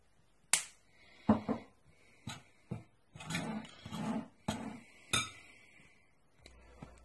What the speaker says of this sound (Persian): لیسک ندارم، با همین قاشق مخلوطش میکنیم.